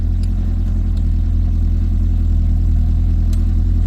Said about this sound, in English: The exhauster's got a bit of a rattle. Something's rattly under there.